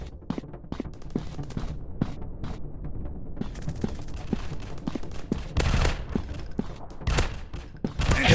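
Gunfire rings out in a first-person shooter game, with sharp single shots spaced through the first half, then denser bursts and booming blasts later, loud and close.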